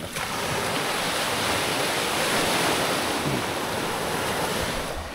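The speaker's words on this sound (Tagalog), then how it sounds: "Medyo malakas lang din yung mga alon dito, guys." Ocean waves break on a beach in Pangasinan, a steady, loud roar of surf that runs unbroken from start to finish, with wind rushing across the microphone.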